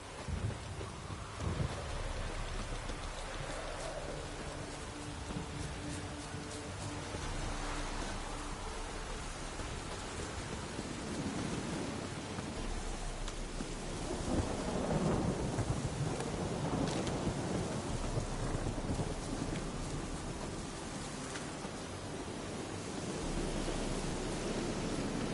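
A storm in The Witcher 3 video game, with a steady wash of heavy rain under deep, rolling rumbles of thunder that swell and fade, loud and continuous throughout with no speech.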